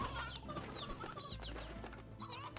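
Chickadoo hens in the farming game Slime Rancher cluck and chirp repeatedly in a busy overlapping flock, close and steady, with a low ambient game hum underneath.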